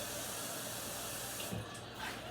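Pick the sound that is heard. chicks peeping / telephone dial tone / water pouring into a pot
water pouring into a pot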